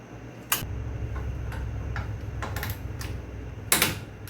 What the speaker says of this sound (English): We're going to go ahead and torque the bottom down first, then the top.